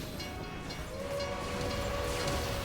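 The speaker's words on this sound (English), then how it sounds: "I got hit by the train." A train rumbles past in the video game Final Fantasy XIV, giving a loud, steady mechanical roar with a sustained horn-like tone.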